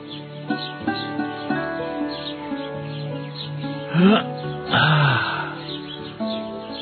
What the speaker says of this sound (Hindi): सुबह चिड़ियों के चहचहाने की आवाज